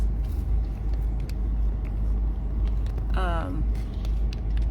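Inside a moving car on the road, a steady low engine and road rumble fills the cabin throughout, with a brief rising tonal whine cutting through midway.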